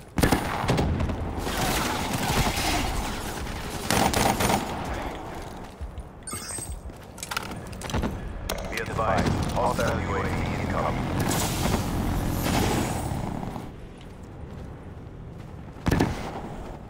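Weapon fire in a first-person shooter game on Xbox One, with bursts of shots and mechanical clatter spread through the stretch, loud and busy, mixed with game effects.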